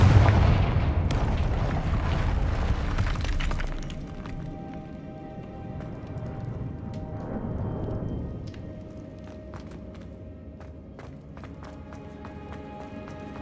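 A Confringo fire spell blast in the video game Hogwarts Legacy: a loud, rumbling explosive burst that decays over a few seconds into quieter game ambience with faint tonal effects and small clicks.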